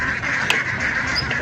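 A flock of ducks quacking close by, a dense, continuous chorus of calls with no talking.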